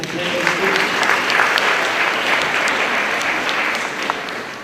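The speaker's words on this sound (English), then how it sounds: "Let us clap for Mr. Kasim" An audience claps for Mr. Kasim at an award ceremony, a dense, even burst of applause filling the space for several seconds before tapering slightly.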